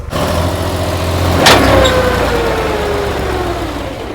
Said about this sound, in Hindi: ये अपनी मिक्स करने वाली सीमेंट मिक्स करने वाला ट्रैक्टर, ये फंस गया है यहाँ पर